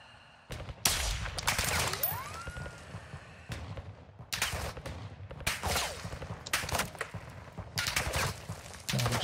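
Bursts of automatic gunfire in Call of Duty: Modern Warfare II DMZ mode, several loud volleys with short gaps that repeat over about nine seconds, with no talking.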